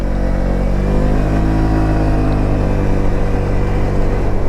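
A brand-new Voge SR16 125 scooter accelerating up a slight hill, its engine droning loud and steady from close by with a constant throaty hum throughout.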